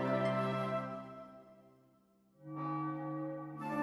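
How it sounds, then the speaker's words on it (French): Deep church bells ring out in two resonant strokes, each swelling and slowly fading, with no voices. "les cloches sonnent"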